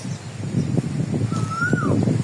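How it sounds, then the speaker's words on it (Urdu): Birds chirping outdoors in a Punjab village after a heavy storm, with a clear whistled call rising then falling, over faint rustling and soft background noise. "یہ اتنی خوبصورت آوازیں آتی ہیں نا چڑیوں کی"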